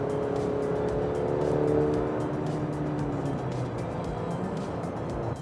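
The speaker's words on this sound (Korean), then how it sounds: "그냥 완전히 풀가속을 하면 기대했던 것보다 더 시원하게 가속을 내줍니다" A 2024 Chevrolet Colorado pickup truck accelerates hard at full throttle, its engine note climbing steadily and loud and close throughout, with a rising drone and road noise and no talking.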